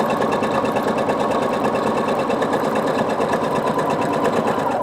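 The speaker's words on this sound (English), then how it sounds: "And just guide your fabric through there. Don't look at the needle, look at your guideline." A sewing machine stitches a fabric seam for a pillow, running at a steady fast rattle with continuous needle clatter, loud and close with no pauses.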